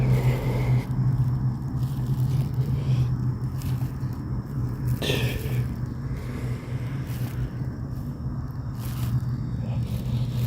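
Distant road traffic makes a low, continuous rumble with a steady hum underneath and occasional faint passing swells, with no voices.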